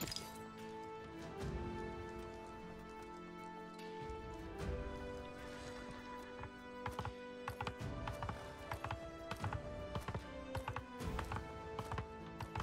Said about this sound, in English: sounds they're using for the horse hoofs just sounds off to me